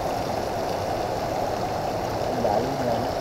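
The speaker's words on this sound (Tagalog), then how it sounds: "Nanggagaling yan sa loob ng bundok. Yung mga tubig na yan guys." Spring water from inside Mount Banahaw in Dolores flows in a steady, close rushing wash with faint gurgles and no breaks.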